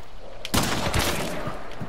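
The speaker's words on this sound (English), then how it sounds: "Shoot them, please." A sudden loud burst of rapid gunfire in a video game firefight erupts partway through and keeps rattling close and dense until the end.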